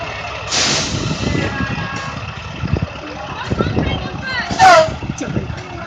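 A city bus's air brakes let out a short, loud hiss near the end, amid truck and engine rumble in the background, with people talking over it.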